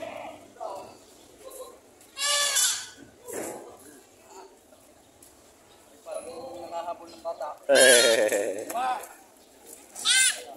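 Several loud, wavering goat bleats ring out close by between stretches of conversation, with hooves shuffling in the background.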